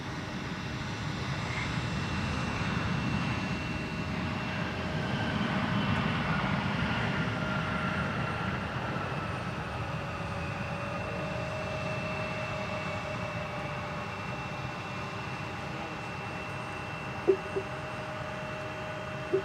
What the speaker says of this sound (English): There's Icelandair 657 from Reykjavik and a Boeing 737 MAX 9.